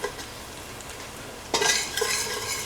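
Chopped garlic frying in oil in a pan, turning light brown: a steady close sizzle with utensil scrapes, then a louder burst of sizzling and stirring about halfway through.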